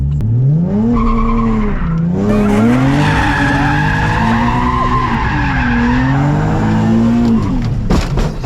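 A Nissan 370Z does a burnout, tires squealing and skidding loudly and continuously while the engine drones and wavers underneath, close and harsh for several seconds before cutting off.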